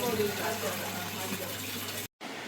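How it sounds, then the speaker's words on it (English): Tap water running at a hand washing station aboard a cruise ship, a steady rushing stream heard close and continuous before cutting off abruptly near the end. "running water."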